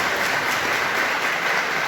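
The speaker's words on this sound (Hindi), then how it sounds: "ताली बजाइए आप।" An audience claps at a Voter's Day event in Chandpur, a dense, steady wash of applause filling the whole short stretch with no voice over it.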